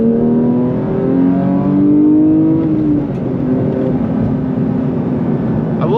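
Heard loud from the cabin, a 2022 Porsche 911 GT3 Touring (992) engine winds up with a rising howl, drops after a gear change and pulls again under road noise.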